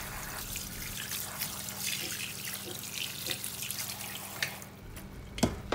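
Boiled chicken, cooked with star anise and pepper, is rinsed under a running kitchen tap with a steady close splash of water, and occasional clinks and bumps toward the end.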